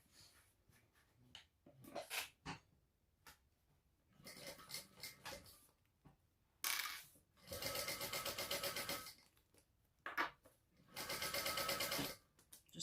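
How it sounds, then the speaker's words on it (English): A sewing machine bastes across a bag zipper seam in several short runs of fast, steady stitching, close and clear, separated by quiet pauses and small handling clicks. "we're going to baste across that at 1/8 of an inch seam allowance"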